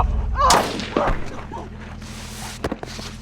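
Gunfire in an adventure movie scene, two loud close shots about half a second apart followed by thuds and softer movement, with voices in the scene.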